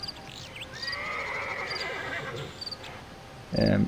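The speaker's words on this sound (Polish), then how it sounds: "Wchodząc na bombsite B na mapie Inferno do miejscówki ciemni możemy usłyszeć konia." A horse neighs with a long whinny on bombsite B of the Inferno map in CS:GO, heard clearly as a game sound effect, followed by a brief louder thud near the end.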